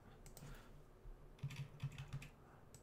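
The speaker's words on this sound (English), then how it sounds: "I'm just typing in anything just for this tutorial" Keystrokes on a computer keyboard, with a quiet patter of key presses and then a run of five or six distinct, slightly louder taps close by in a quiet room.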